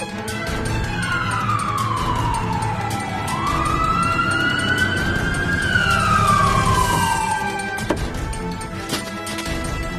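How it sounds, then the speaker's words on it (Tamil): A wailing ambulance siren rises and falls in long sweeping tones, loud and fairly close, with traffic noise underneath and no speech. "ஆம்புலன்ஸ் வந்துருச்சுன்னு நினைக்கிறேன்."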